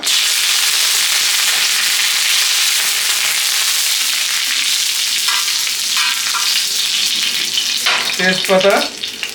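Bay leaves drop into hot oil on a tawa and set off a loud, dense sizzle that runs unbroken, with sharper crackles and a brief spattering burst near the end.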